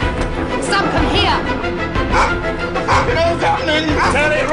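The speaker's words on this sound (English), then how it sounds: "Shut the dog up!" A dog barks and yips urgently and repeatedly amid a tense horror-film scene, with loud shouting voices overlapping the barks throughout.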